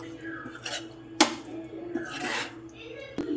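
A spoon scrapes and clinks against a pan while a prawn roast mixture is stirred, giving soft shuffling strokes and a few sharp metallic taps up close, with someone speaking between them.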